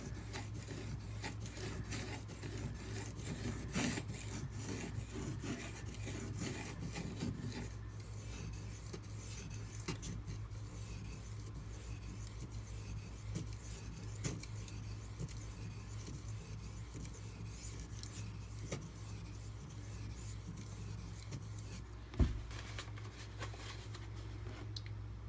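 A Spyderco Native 5 knife with a Maxamet steel blade is drawn across an 800 grit whetstone, producing quiet, steady rubbing and rasping strokes over a low background hum.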